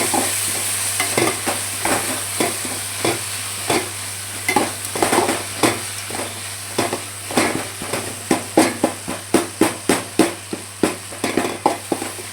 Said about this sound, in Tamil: தக்காளி நல்லா ஜூஸி ஆகிற அளவுக்கு நம்ம வதக்கிக்கலாம்